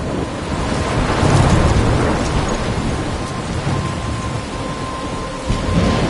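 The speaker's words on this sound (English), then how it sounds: "I'm trapped in a storm?" Heavy rain pours steadily in a video game thunderstorm while deep thunder rumbles through, loud and enveloping, with no voices.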